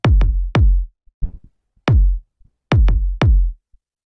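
Programmed kick drum in FL Studio for an instrumental, punchy booming hits in a syncopated pattern with short gaps, loud and alone.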